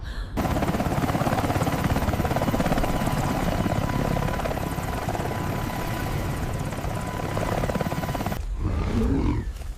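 A helicopter comes in to land, its rotor and engine roar loud, steady and close for about eight seconds before cutting off abruptly, followed by faint rustling.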